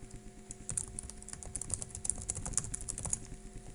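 Steady typing on a computer keyboard, a quick irregular run of clicky keystrokes, close and continuous with no talking.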